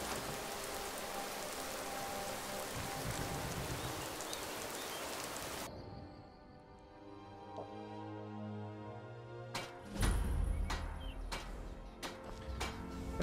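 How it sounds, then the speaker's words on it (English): Steady rain falls in the video game Skyrim, a dense even hiss that thins out partway through, followed by a few sharp knocks and a low thump near the end. "This rain will stop eventually."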